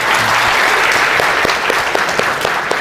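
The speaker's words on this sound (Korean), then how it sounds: "발표해주신 서수님께 박수를 부탁드립니다" An audience at a Korean tech talk on voice-controlled air conditioning with Amazon Echo claps steadily after the presentation ends, a dense, even wash of applause with a few sharper individual claps standing out.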